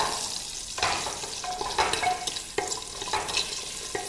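Shallots sizzle in a hot pan for bisi bele bath, a bright continuous fry broken by several scraping stirs at a steady pace, close and fairly loud.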